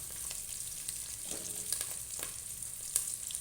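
Onion frying in a pan with a soft, steady sizzle and a few faint stirring scrapes, close but quiet, no talk.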